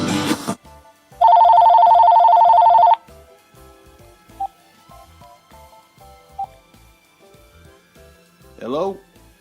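A telephone rings once in a single sustained electronic burst lasting about two seconds, loud and close, with speech and faint background noise around it.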